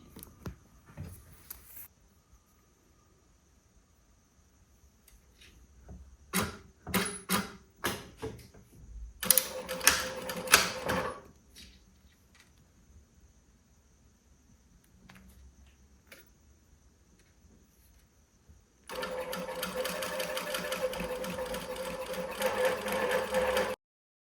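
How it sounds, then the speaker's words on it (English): A sewing machine stitches a seam on a quilted beach bag from the outside along the seam shadow, running in a short burst of rapid stitching and then a longer steady run, close and clear with no talk. "And then you can sew here in the seam shadow from the outside."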